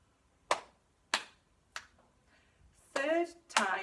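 Body percussion in a slap, clap, click pattern: three sharp, evenly spaced hand hits, then a short pause and two louder, longer bursts. The sounds are close, with no talk during them.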